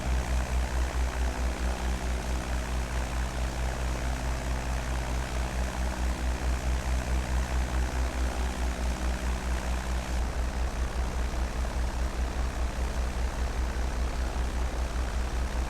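A small propeller aircraft drones steadily in flight near an airport runway, heard from inside the cabin with a constant low engine hum and a slight shift in tone partway through.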